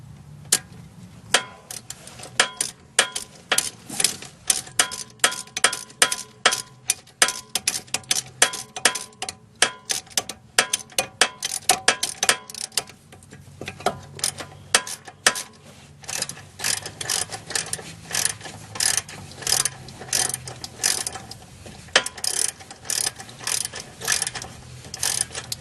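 A ratchet wrench clicks steadily while turning the brake caliper bolts on the front brakes of a 2010 Hyundai Sonata, with rapid metallic pawl ticks in repeated bursts, close and loud throughout.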